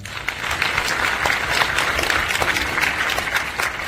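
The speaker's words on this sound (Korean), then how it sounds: "박수 한번 부탁드리겠습니다." Applause at a girls' high school graduation ceremony as officials are introduced, a dense, lively crowd clapping that stays loud and even from start to finish.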